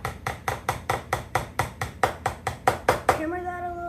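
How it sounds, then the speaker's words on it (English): A hammer knocks a wooden piece of a jewelry shelf in a steady run of about fifteen evenly spaced, close, hard taps, ending with a brief ringing tone. "hammer that a little bit"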